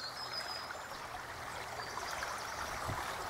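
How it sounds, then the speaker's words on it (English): A river flows steadily nearby, giving a continuous wash of rushing, trickling water with no voices. "Nice flowing river here."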